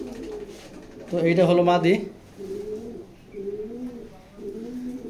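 Racing pigeons coo in a series of low, throaty, rolling calls, close by, while someone talks over and between them.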